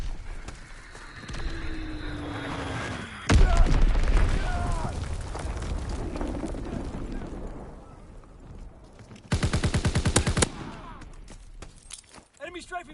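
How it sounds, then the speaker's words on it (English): Explosions from an enemy bombing run in a Call of Duty game boom loudly, with a sharp blast partway through followed by rumbling and a later burst of rapid crackling gunfire, amid game voices and background clatter. "Enemy recon aircraft observed! Enemy bomb incoming! Get to cover!"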